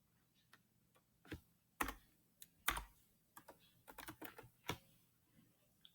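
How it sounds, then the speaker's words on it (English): Password typed on a computer keyboard, a sparse series of soft key clicks and a few sharper taps, irregular and fairly quiet against a faint background hum, with no talking. "then you have to type in your password again"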